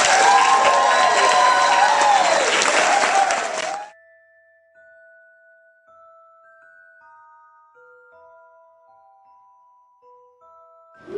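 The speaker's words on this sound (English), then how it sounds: "And again, Tammy rises to accept thunderous applause." A conference audience applauds loudly for about four seconds, then the clapping cuts off, leaving near silence with faint sustained chime-like tones.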